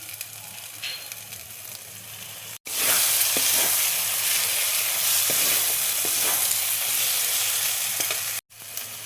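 A masala with Kashmiri chili powder, cooking for egg keema curry, fries in a pan after a spoonful of ghee is added. It gives a loud, continuous sizzling hiss that holds steady for several seconds between brief breaks.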